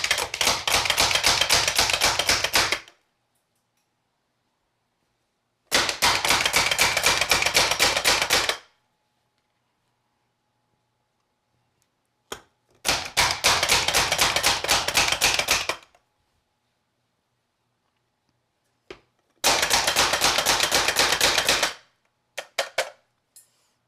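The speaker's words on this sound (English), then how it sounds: "we are going to chop up the mushroom stems" Knife chopping mushroom stems on a board, four bursts of rapid, even tapping strokes separated by silent pauses, with a few stray single taps between, close and clear with no voices.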